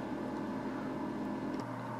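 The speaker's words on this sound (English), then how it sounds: "to the front there's a cooling fan, and that's what blowing." A front cooling fan in an old computer case blows with a steady, close whir and hum, with a slight shift in tone near the end.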